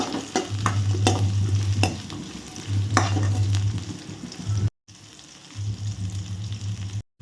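Onions sizzle and fry in a pan with repeated stirring scrapes as they sauté golden, a steady crackle broken by a brief silence partway through.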